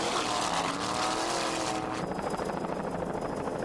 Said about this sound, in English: Wide Open is a 27-foot Cobra powered by one 650 horsepower Mercury engine with a Mercruiser drive